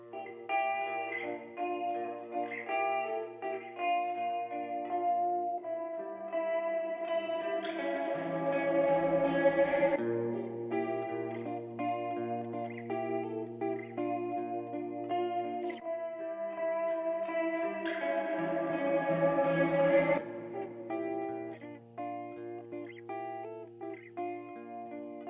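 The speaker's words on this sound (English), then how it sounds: "there's a bit of playing around with like dipping it into this chasm of like kind of shaky reverb, and it kind of gets a bit distorted" Sustained guitar tracks swell and wobble through shaky reverb and distortion, layered tones pulsing with chorus-like warble that thickens twice into a denser, grittier wash before settling, with no voices.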